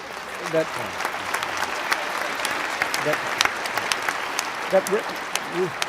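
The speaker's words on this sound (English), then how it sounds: "I appreciate the applause" Lecture-hall audience applause at a public talk with two well-known speakers: a continuous wash of many hands clapping at moderate volume, with a speaker talking over it.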